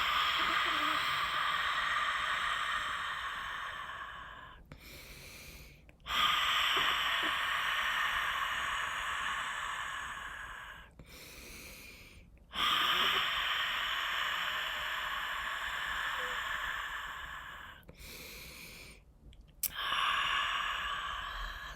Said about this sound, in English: and we're going to breathe it out